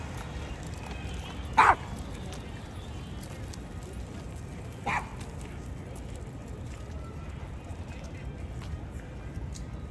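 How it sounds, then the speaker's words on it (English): A dog barks in Central Park, New York City, on a fall day: one sharp, fairly loud bark, then a softer second bark about three seconds later, set against a steady wash of outdoor park noise. "Lots of people with lots of dogs."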